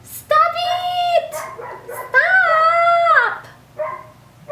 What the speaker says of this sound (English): I am very frustrated with that dog barking.